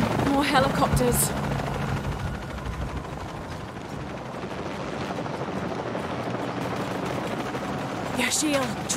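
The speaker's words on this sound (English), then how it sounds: "More helicopters." Helicopters in Shadow of the Tomb Raider thrum steadily in a loud rotor drone throughout, with sharp gunfire bursts and game noise at the start and end, under speech.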